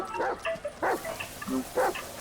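Street dogs bark and yip in several short, loud bursts close by, an uneven rhythm of sharp calls with whimpering tones between them.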